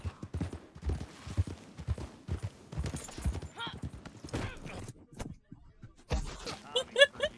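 Horse hooves in the video game Red Dead Online clip-clop in an uneven rhythm, close and moderately loud, with brief chattering voices and a few sharp sounds near the end.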